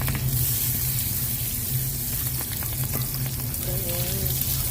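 Butter melts with sugar in a frying pan for an apple cinnamon dish, giving a steady, close sizzle and bubbling crackle that runs the whole time with no talking.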